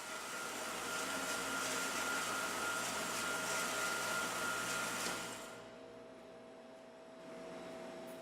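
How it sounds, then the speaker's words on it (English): A horizontal band saw blade runs in a metalworking shop with a steady mechanical whir and hum, fading down near the end as it winds off, leaving a quieter tonal hum. "A single pull of the trigger will now activate the saw blade until it is shut off manually"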